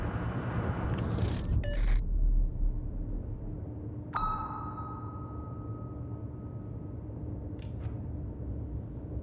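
A submarine's sonar ping in World of Warships rings out as a single clear tonal pulse that hangs and slowly fades, set against a low rumbling game backdrop with a few sharp clicks.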